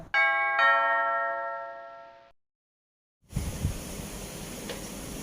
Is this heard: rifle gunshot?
no